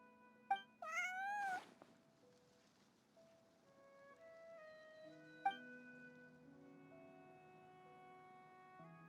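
Cat meowing in the video game Genshin Impact: one clear, rising meow near the start, then a quieter follow-up over soft, sustained game music, with no talking.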